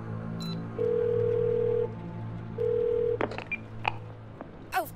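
Electronic dialing tones from a phone in the video game 12 Minutes: two long steady keypad beeps, separated by a short pause, followed by a few quicker, quieter electronic blips.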